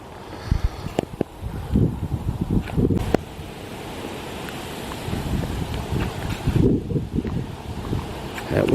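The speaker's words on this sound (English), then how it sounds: "That wind's starting to pick up." Wind gusting through pines on a dry forest hike in drought at Edgewood, steady broadband rush with low buffeting on the microphone, swelling and easing in strength, no talking.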